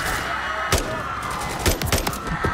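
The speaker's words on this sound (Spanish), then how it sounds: "Cuidado con los disparos." Gunfire in the Call of Duty Modern Warfare III campaign, sharp shots cracking out singly and in short bursts over a steady background rumble of game ambience, with no talk.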